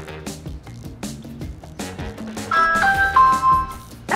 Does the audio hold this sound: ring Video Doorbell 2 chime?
yes